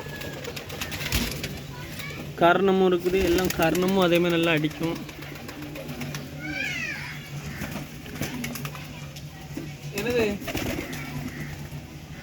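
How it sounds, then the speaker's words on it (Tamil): Crested pigeons cooing nearby in a loft, several clear rhythmic coos in bursts under steady talking in Tamil. "இப்போ ஃபுல்லாகவே கொண்டை புறாக்களே நல்லா இருக்குது."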